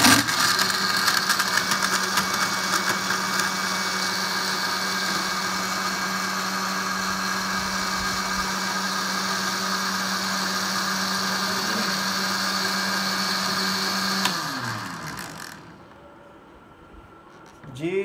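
A juicer blender whirs loudly and steadily as it blends a fresh strawberry milkshake with ice cubes, then winds down and stops near the end, leaving brief quiet.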